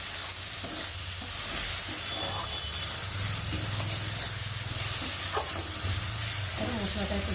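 Spice paste sizzles and crackles steadily in hot oil for a rohu fish curry, with occasional stirring scrapes, close and continuous, no talking.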